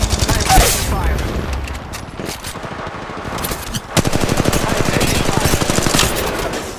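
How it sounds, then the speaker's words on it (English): Sustained automatic gunfire from a battle in the mobile shooter Apex Legends Mobile, rapid bursts rolling on almost without pause and growing denser toward the end, with game voice lines mixed in. "I'm taking fire."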